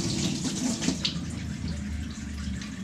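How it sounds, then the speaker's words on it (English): Kitchen tap water runs steadily while a vegetable peeler is rinsed under it, a close continuous splashing stream that lasts throughout with no speech. "I'm going to just rinse off my peeler here."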